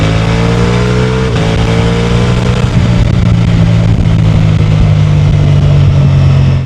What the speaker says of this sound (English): that neat and tidy exhaust emits a sound not that remote from a MotoGP start line